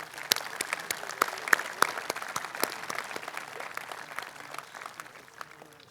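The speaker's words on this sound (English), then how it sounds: "And I think we ought to just recognize them one more time with an applause." Audience at an outdoor veterans memorial dedication claps, a scattered but steady patter of hands with distinct individual claps standing out, moderately distant and fading slightly toward the end.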